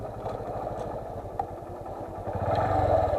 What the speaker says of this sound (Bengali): এই মোটর সাইকেল দেখতে পাচ্ছেন তো